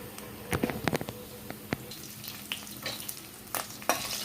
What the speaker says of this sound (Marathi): कांदा पण आपला छान तेलामध्ये असा परतून घ्यायचा